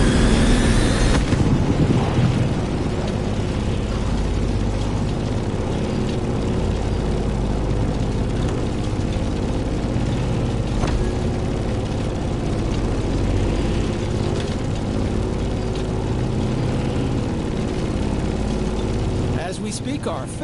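Grumman F8F Bearcat propeller fighter plane in the racing game The Crew Motorfest, its engine droning steadily and loudly throughout in a continuous low rumble.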